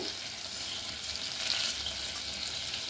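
Whole spices such as bay leaf and pepper sizzle steadily in melted butter at the start of a tomato soup. The frying gives a close, continuous crackle with no talk.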